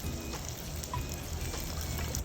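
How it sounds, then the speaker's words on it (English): About a cup and a quarter of water is poured into a pot of soaked basmati rice, making a steady, close trickling splash for a couple of seconds. "This I'm going to add about 1 1/4 cup of water."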